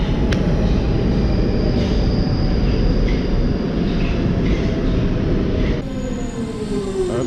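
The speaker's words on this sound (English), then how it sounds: "the fucking train's here" A train pulling into a station makes a loud, steady rolling roar with faint metallic wheel squeals and clicks, the tone shifting near the end as it slows.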